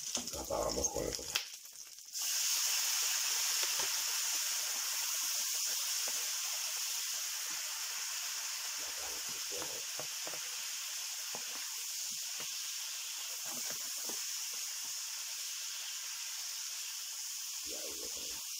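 Prawns with paprika in a hot pan as alcohol cooks off, a steady hissing sizzle that starts suddenly after a brief clatter and then continues evenly with faint crackles.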